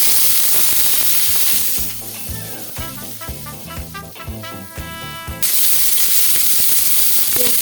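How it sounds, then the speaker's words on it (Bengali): Chopped onion with cumin seeds is added to a little white cooking oil for chicken do pyaza, giving a loud, steady sizzle and spray of frying throughout, briefly settling to a lower crackle midway before surging again, with no talking. "অল্প সাদা তেল দেব জিরের ফোড়ন পেঁয়াজটা দিয়ে"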